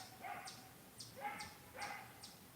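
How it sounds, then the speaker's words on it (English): Several farm dogs barking outdoors at some distance, a few moderately faint bark bursts spaced roughly half a second apart, with no one talking. "The dogs are barking."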